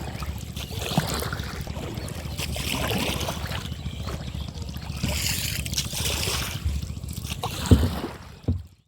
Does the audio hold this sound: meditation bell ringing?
no